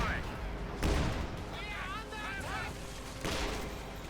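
Artillery fire in the Company of Heroes 2 battle game, American howitzers shelling: two heavy booming impacts with rumbling tails amid a busy battle soundscape, with a voice talking over it.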